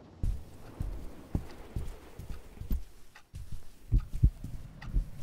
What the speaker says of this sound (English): I hear a heartbeat again.